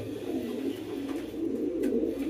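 Pigeons cooing in a loft with a newly hatched squab, low soft rolling coos repeating continuously close by, over a faint background hum and without speech.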